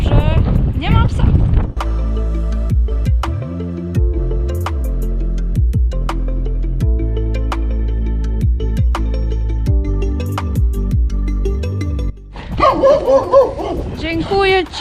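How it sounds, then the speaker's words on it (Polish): A dog near the ruins of a petrochemical plant in Ostrava makes a few whimpering, yelping sounds over a loud, sustained tonal drone, with voices talking at the start and end. "O, piesiu."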